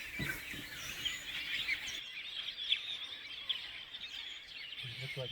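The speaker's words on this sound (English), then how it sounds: "Look like all the blue starlings" Blue starlings at a termite mound chirp and twitter in a busy, moderately distant chorus, with a brief low voice near the start and again at the end.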